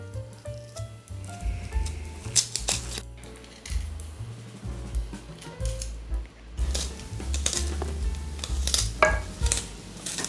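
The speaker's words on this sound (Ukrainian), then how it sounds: "часник треба розрізати на часточки, як ви хочете, але не дуже дрібно" Garlic is cut into cloves on a board, making repeated close knife taps and crisp slicing sounds in uneven bursts, with no talk.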